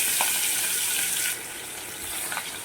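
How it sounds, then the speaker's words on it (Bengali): Pieces of pond-caught snakehead fish frying in hot oil give off a bright, steady crackling sizzle that drops slightly in intensity partway through, with a couple of faint pops. "গরম হয়ে গেলে মাছগুলোকে ভেজে নেব"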